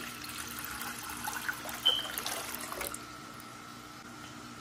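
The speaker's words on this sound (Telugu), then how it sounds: "ఒక గిన్నెలో నీళ్ళు తీసుకుంటున్నాను." Water poured into a vessel in a kitchen, a faint steady trickle and splash that tapers off after a few seconds, quiet and close with no talk.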